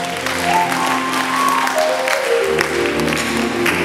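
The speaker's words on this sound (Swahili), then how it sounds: "Ongeza tena makofi kwa ajili ya Bwana Yesu." A church congregation applauds in praise of Jesus during a service, with steady clapping running throughout under a sustained tonal backdrop of music or voices.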